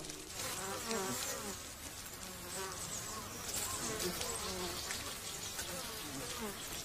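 Asian wild honeybees swarm and buzz while killing a Japanese giant hornet scout, a dense, steady, close insect drone that holds throughout without a break.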